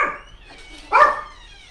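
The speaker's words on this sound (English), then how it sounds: "Sorry, there's a puppy." A puppy gives a couple of short yips and a bark, close by and fairly loud, heard outdoors during a 116-mile ultramarathon along Route 40.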